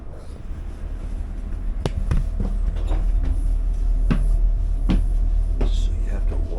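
Steady low rumble inside a moving Amtrak Southwest Chief train car, with scattered clunks and rattles punctuating the continuous drone.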